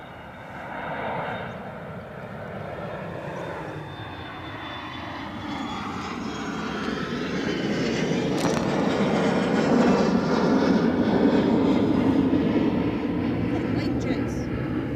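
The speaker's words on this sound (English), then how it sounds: "before we get the Qatar 350, which is now just about lined up," A Qatar Airways A350 on final approach to land at Edinburgh Airport makes a loud, steady jet roar that swells gradually as it nears. A voice can be heard talking faintly in the background.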